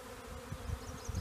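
A swarm of honey bees being captured from a cut branch gives off a low, steady, fairly faint buzz. Soft bumps and rustles sound close by.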